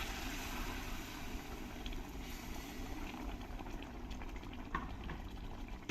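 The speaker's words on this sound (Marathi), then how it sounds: "यात आपण आता थोडं थोडं गरम पाणी घालून त्याला शिजवायचं आहे" A masala cooks in a kadhai with hot water added, giving a steady, close bubbling and simmering that runs evenly throughout with no talk.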